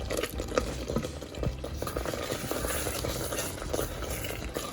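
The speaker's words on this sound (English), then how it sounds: "We're gonna turn it to low and let it continue to simmer." Thickening cranberry sauce with popped berries simmers in a pot while a spoon stirs through it, giving steady soft bubbling and scraping under a continuous low wet churn with no talk.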